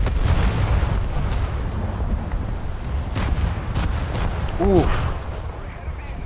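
Naval guns firing armor-piercing shells in a warship battle video game, with a dense, booming rumble of heavy gunfire and sharp cracks throughout, a brief whistling tone near the end and a short voiced exclamation.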